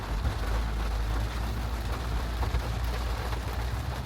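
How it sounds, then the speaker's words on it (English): Rain begins pouring down outside a car, a dense, steady patter on the surfaces around it with a low rumble beneath, heard alone without talk. "it just started back raining"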